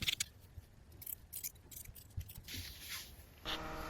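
Scissors trimming linen shirt fabric, with a series of quiet close snips and slicing strokes and faint rustling of the cloth, no voices.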